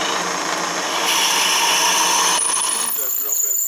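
A Shopsmith 520 drill press bores through a wooden pen blank, making a loud, continuous whirring grind that holds steady and then eases slightly near the end.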